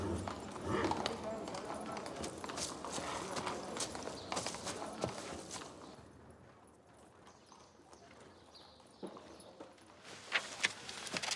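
A horse's hooves clip-clop in a series of sharp, uneven knocks close by, busier at first, quieter in the middle and returning near the end, with speech over parts of it.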